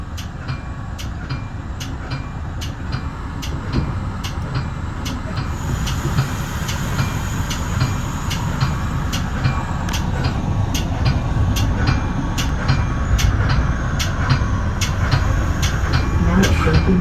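Metra commuter train rolling on rails near Westmont, heard from inside the car as a steady loud rumble with regular clicking of wheels over rail joints throughout.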